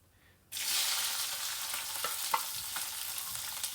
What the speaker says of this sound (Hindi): तो अब सबसे पहले सब्जियां अंदर जाएंगी, वो थोड़ी सी क्रिस्पी होने तक हम उन्हें भूनेंगे।